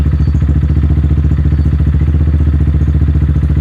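Motorcycle engine idling as the clutch is slowly let out to pull away, a steady close chugging pulse of even beats lasting a few seconds with no speech.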